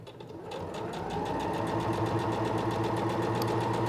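A Singer Professional 9100 sewing machine stitches a zipper seam, its needle running in a fast, even mechanical rhythm that starts up and holds steady at close range with no voices.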